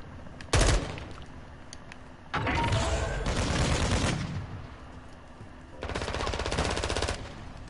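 Bursts of automatic gunfire in a PS4 shooter game, a short sharp volley followed by two longer sustained rattling bursts, loud and close with no talk over them.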